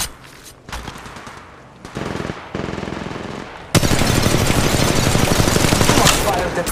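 Gunfire in the mobile battle royale game Apex Legends Mobile, short rapid bursts followed by a long sustained automatic volley, loud and close, with game voices calling out underneath.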